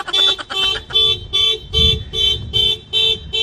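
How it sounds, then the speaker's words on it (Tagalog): A car alarm sounding at a lot of bank-repossessed cars, loud, close and repeating as evenly spaced electronic tonal bursts, about eight pulses of a bright piercing pattern, with no voices. "Alarm."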